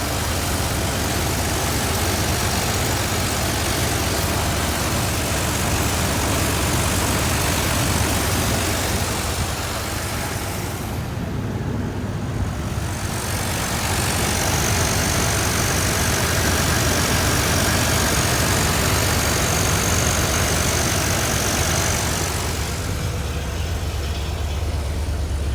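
A 1981 Chevrolet Corvette engine idles with a continuous low, rumbling drone, steady and close throughout, with no voices.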